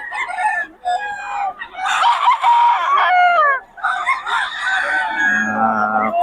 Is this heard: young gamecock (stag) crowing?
yes